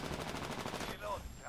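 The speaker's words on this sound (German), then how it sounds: "Boah, schießt schon wieder das Geschütz auf mich." A gun turret in the video game Titanfall fires a rapid burst of automatic shots at the player, loud and rattling, ending abruptly after about a second.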